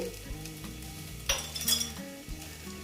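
Sliced bitter gourd (karela) frying in oil in a pan, a steady close sizzle broken by a brief scraping stir and light clinks of a utensil against the pot.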